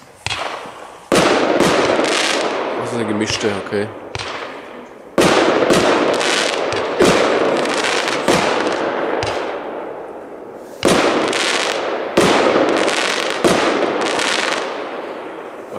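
A Keller 10-shot Superbombette firework battery fired outdoors, loud close bangs in separate bursts with crackling and fizzing tails in between, while someone briefly speaks German.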